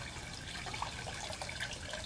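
Water draining and splashing out of a Paradise Spa Vac pool and spa cleaner, a continuous close trickling, gurgling flow with no talk.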